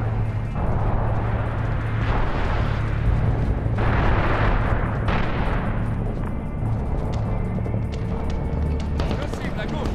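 Heavy rumbling blasts and booming gunfire fill a combat scene in Medal of Honor (2010), with RPG explosions thundering loudly among continuous battle noise and sharp cracks, while voices shout over the din.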